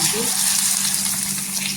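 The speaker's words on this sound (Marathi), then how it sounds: "इथे आता कांद्याच्या चटणीला आपण फोडणी द्यायची" Steady, loud sizzling hiss of hot tempering oil poured over onion chutney, continuous throughout with a faint low hum underneath.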